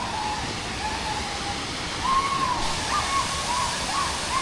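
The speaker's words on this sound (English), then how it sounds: "that is the waterfall, guys. Jhari Waterfalls finally" Rushing water pours in a steady, broadband roar at Jhari Waterfalls, a continuous wash of sound with faint bird chirps over it and no talk.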